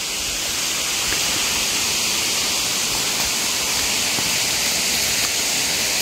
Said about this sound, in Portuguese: a gente já avista a primeira cachoeira aqui